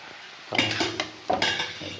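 Fried rice with vegetables is stirred in a pan, restaurant style. Two short bursts of scraping and clattering from the spatula against the pan stand over a low background sizzle.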